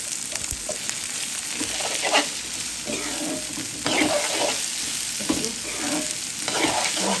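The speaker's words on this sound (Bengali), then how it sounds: "দিয়ে দিলাম পেঁয়াজ, পেঁয়াজের পরিমাণ, কাঁচামরিচের পরিমাণ বেশি দিলাম।" Onions and green chilies sizzle in hot oil while being stirred, with scraping strokes of a spatula against the pan cutting through a steady frying hiss, no voices.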